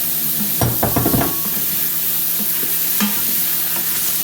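Minced garlic and carrots sauté loudly in a pan with a constant, close sizzle. A burst of scraping stirring strokes comes early, and a single clatter follows later.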